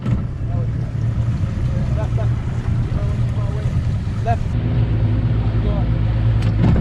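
Continuous motor drone of a small flat boat, an island hopper, moving through clear water, with wind noise and faint voices underneath.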